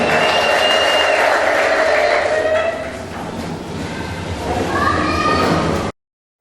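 A church congregation marking its seventh anniversary claps together in sustained, fairly close applause that fades slightly midway, then swells again before cutting off abruptly.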